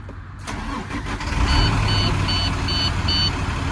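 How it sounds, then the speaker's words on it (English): A truck's engine cranks and fires up during a CDL air brake test, settling into a steady, close idle while an evenly spaced warning beep repeats over the rumble. "I will turn on the vehicle, raise it to its governor cutoff"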